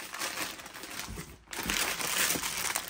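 A plastic bag of Haribo sweets is crinkled and handled close up, giving bright, continuous crackling and rustling with a short pause midway before the crinkling resumes more loudly.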